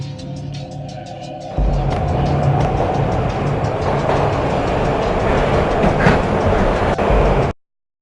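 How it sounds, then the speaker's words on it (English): A video game train ride, with clattering rail wagons, rhythmic clickety-clack and a loud rumbling roar that builds suddenly after a quieter start, then cuts off abruptly. "This was my second train ride of the night."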